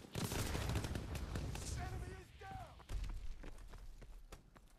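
Rapid gunfire from an M1928 Tommy gun in the Call of Duty video game, loud bursts in the first half followed by scattered shots, mixed with game effects and someone talking.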